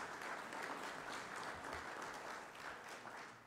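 Congregation applause during a church worship service, a fairly quiet but continuous patter of many hands clapping, steady throughout and easing off slightly at the close, with no speech.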